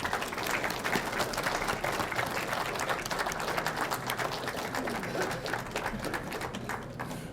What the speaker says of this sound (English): I'd like for them to stand once again and receive your applause